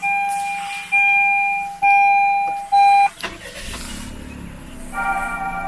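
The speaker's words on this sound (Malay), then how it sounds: "Kita tengok dia punya startup sequence lagi sekali." Perodua Ativa car going through its startup sequence: several electronic chimes ring out in turn, then the engine cranks and catches and settles into a steady idle, close and clear.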